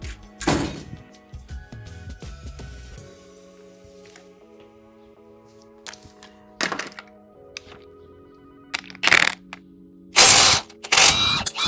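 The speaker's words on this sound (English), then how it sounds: "I need a 21mm socket, and I'm just going to use my 1/2" impact" A 1/2-inch impact wrench with a 21mm socket works a lower shock bolt on a 2023 Ram 2500 during a FOX front suspension upgrade: several short, loud hammering bursts separated by quieter mechanical clanks and ratchet clicks.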